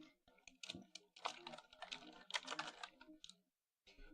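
Rapid clicks from a computer keyboard come up close in quick, uneven bursts, with a short pause near the end before the typing resumes.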